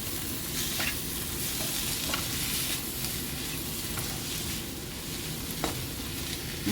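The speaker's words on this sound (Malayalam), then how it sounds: "ഇനി ഇതിലേക്ക് 3 ചെറിയ ടൊമാറ്റോ അരിഞ്ഞ് വെച്ചത് ഇട്ട് കൊടുക്കാം" Three small chopped tomatoes frying in a pan of pepper chicken masala, giving a steady, continuous sizzle with occasional soft stirring clicks, close and alone without talk.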